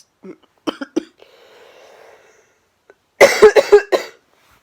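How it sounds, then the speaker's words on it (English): Several separate coughs from a person with Covid, a couple of short ones early, then a loud burst of four or five harsh coughs in quick succession near the end, close up. "The cough is just horrible."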